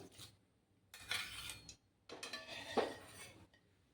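Fried bay leaves scooped from oil onto a plate in a home kitchen, heard as two short bursts of soft metal-on-dish scraping and clinking, faint and close, separated by quiet pauses.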